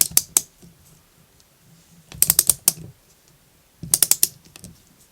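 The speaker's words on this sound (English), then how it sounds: "Now we can torque this down." Ratcheting tool tightening a bolt on a Losi 5ive T RC kit build, three short bursts of quick clicking close up, separated by quiet pauses.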